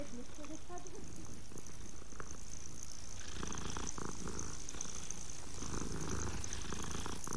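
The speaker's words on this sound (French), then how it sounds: "C'est super bien fait, les ronronnements." A cat purrs in Hogwarts Legacy, a soft continuous rumbling purr under steady game ambience and music.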